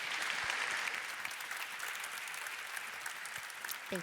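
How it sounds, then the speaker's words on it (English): Conference audience applauds two speakers, a steady, full wash of clapping from a sizeable crowd that holds evenly for the whole stretch, with a brief voice cutting in at the very end. "A big round of applause to Jacob and David."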